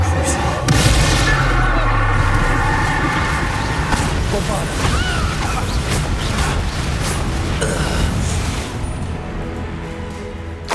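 Booming spell blasts and crackling impacts from a Confringo fire spell in the video game Hogwarts Legacy, loud and dense over about ten seconds, layered with game effects and occasional voices.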